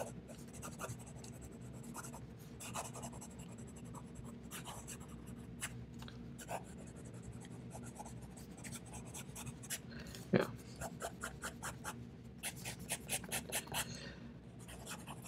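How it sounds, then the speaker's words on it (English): Fast writing with a TWSBI Vac Mini fountain pen on paper, a steady run of quick, close scratchy nib strokes with short bursts and brief pauses, faint and near, no voices. "Try fast writing."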